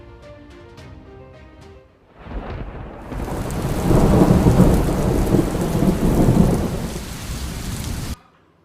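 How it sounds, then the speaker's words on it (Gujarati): Heavy rain pours during a thunderstorm in Ahmedabad. A quieter start gives way to a loud, rumbling roll of thunder over dense, steady rainfall that lasts several seconds before cutting off abruptly. "અનેક એવા વિસ્તારો છે કે જ્યાં અત્યારે ભારે વરસાદ પડી રહ્યો છે"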